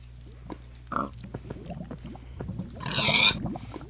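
A Minecraft pig near lava gives a couple of clear oinks, a brief one early and a louder, longer grunt near the end, over faint game clicks and footsteps, with no talking.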